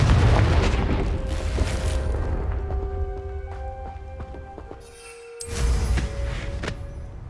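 A Confringo blasting spell explodes in Hogwarts Legacy, a heavy boom with rumbling decay and ringing tones, followed by a second loud burst after a brief drop.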